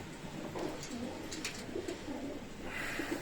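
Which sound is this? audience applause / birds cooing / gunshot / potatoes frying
birds cooing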